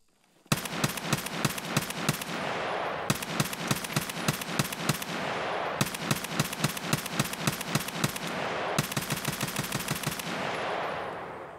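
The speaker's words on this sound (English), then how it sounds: "we'll take this thing into the range and just see what it's like to shoot this thing" Rifle fire at the shooting range in Escape from Tarkov: four sustained automatic bursts of sharp, evenly spaced shots, each lasting about two and a half seconds, loud and close with brief gaps between and no talking.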